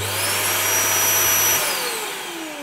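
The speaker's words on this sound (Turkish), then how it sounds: "Royal serisinin standart olarak gelen merkezi elektrikli süpürge kısmı." A built-in central vacuum system in a KABE Royal 600 caravan runs with a loud steady motor whine and airy suction hiss, then winds down as the pitch slides lower.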